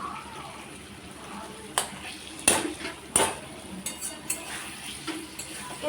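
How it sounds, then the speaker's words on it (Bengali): Metal spatula scraping and clacking against a pan while halving pieces of taro during cooking, a few sharp separate knocks and scrapes over a soft background hiss, with some talk in the room. "কচুগুলো একটু মাঝখান দিয়ে খুন্তি দিয়ে দু টুকরো করে দিচ্ছি"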